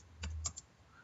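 A few quick, faint keystrokes on a computer keyboard, two or three clustered clicks as a command is entered, alone in quiet surroundings.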